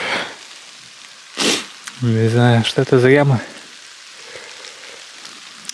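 Rain falls in a forest as a steady soft hiss throughout, with someone speaking briefly over it.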